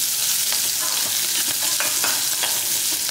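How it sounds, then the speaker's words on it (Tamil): Small shallots sautéing in a hot pan for a Tamil mutton kuzhambu, a steady frying sizzle with soft stirring scrapes and clicks throughout, close and continuous with no talking. "2 கைப்பிடி அளவுக்கு சின்ன வெங்காயத்தை போட்டு நல்லா வதக்கிக்கலாம்"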